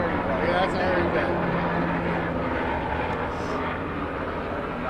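A news helicopter flies overhead in the wake of a deadly tornado, its steady broadband rumble filling the whole stretch while people talk beneath it.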